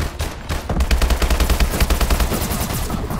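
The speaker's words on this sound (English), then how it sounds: "It's just like you're shooting a paintball gun." Rapid automatic gunfire with a paintball effect in Call of Duty: Advanced Warfare, a loud, steady burst of quick pops running continuously for about three seconds, with no voices.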